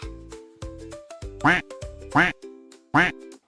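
A duck gives three loud, nasal quacks in an even rhythm, close up, over a bouncy background melody.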